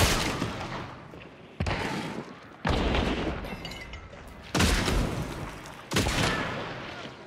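Gunfire in a shooter video game sounds as a series of loud, booming volleys, about five heavy bursts with echoing decay between them.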